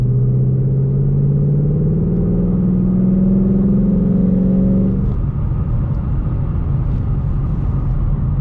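A 2019 Ford Mustang GT being driven on dry winter roads, its engine droning loud and steady with a rising rev that holds for about five seconds, then drops back to a lower rumble.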